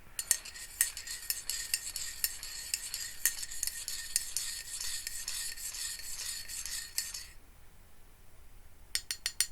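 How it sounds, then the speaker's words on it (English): A spoon stirs tea or coffee in a cup, making a steady, close scraping rasp with quick rhythmic strokes for about seven seconds before stopping, followed by a few faint clinks. "So that I can give it a little stir."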